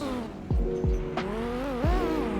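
A Porsche Carrera in a Roblox racing game, its engine droning with shifting pitch as the tires slip on the track, with several low thumps and a brief squealing whine over a steady loud hum.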